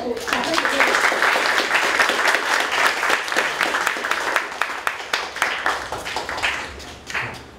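A small audience at a philosophy talk on the death penalty applauds a speaker. The individual claps stay distinct in a lively, uneven patter that thins toward the end, with voices chatting underneath.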